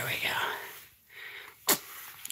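A baby gives a single short, sharp sneeze after soft whispery sounds and a brief pause, heard close by.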